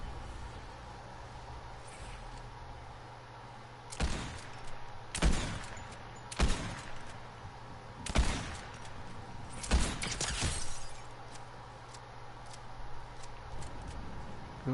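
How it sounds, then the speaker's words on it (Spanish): Gunfire in a Fortnite Battle Royale match rings out in several sharp bursts and single shots spaced a second or two apart over a low steady game background, with no talking. "Creo que escucho disparos de aquí, ¿no?"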